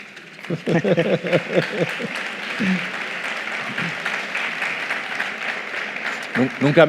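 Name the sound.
audience applause after a question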